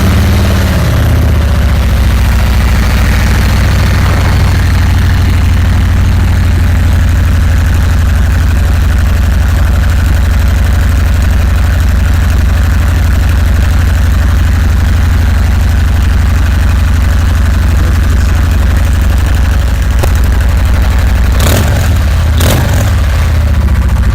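Engine with a newly fitted Fullsac exhaust fires for the first time and settles into a loud, steady idle with a deep low rumble, a brief rev near the start and a few clicks and knocks toward the end.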